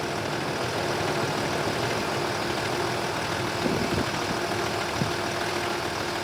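Off-road vehicle engine idling steadily while powering a winch during a recovery outdoors, a constant low droning rumble with a few faint clunks and knocks partway through.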